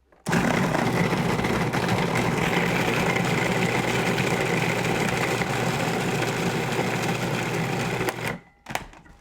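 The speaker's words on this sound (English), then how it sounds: "I blend that." Chopped Medjool dates with a little water whir in a blender, a loud, steady motor roar running for about eight seconds before it cuts off and restarts briefly.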